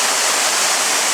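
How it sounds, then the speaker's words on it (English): Loud, steady rush of a waterfall on a small river in Martinique, a dense broadband roar of falling water heard up close with no pauses. "So here's the waterfall."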